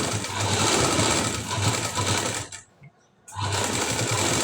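Sewing machine stitching piping and lining onto the front of a high-neck blouse, running in a steady loud whir that stops briefly near the end before resuming.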